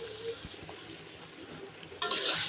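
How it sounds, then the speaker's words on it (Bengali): Sponge gourd (dhundul) and shrimp fry in a pan with a steady low sizzle and occasional stirring scrapes, and the sizzle swells suddenly louder toward the end. "চিংড়ি মাছ দিয়ে ধুন্দুল ভাজি"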